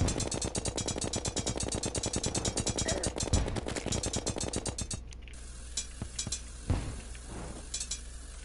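Rapid gunfire in the video game Terraria, a dense fast stream of bullet sounds that thins into scattered shots and clinks over the second half, loud and with no talk.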